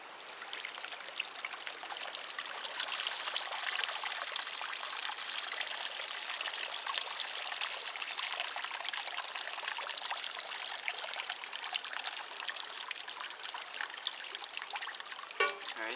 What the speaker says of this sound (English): we're going to pour that through it to strain it